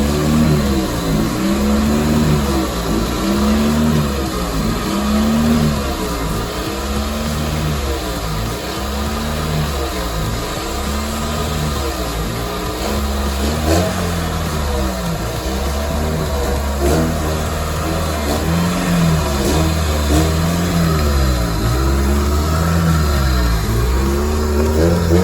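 A Toyota Corolla engine, being rebuilt and started after years of sitting, runs steadily and revs up and down repeatedly in loud close rising and falling sweeps, with no talking.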